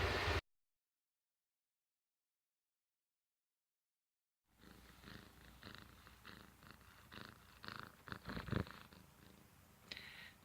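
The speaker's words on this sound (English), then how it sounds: "I don't know if you can hear him purring" A cat named Finnick purrs softly and close after a brief noise and a stretch of silence, a low, continuous rumble with small bumps and no talking.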